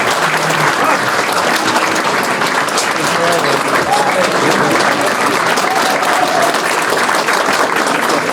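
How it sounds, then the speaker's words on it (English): Loud, steady applause from a festive gathering welcoming Crown Prince Leka II of Albania at a Sultan Nevruz celebration in a tekke, dense clapping that holds for the whole stretch. "Please join me with a round of applause."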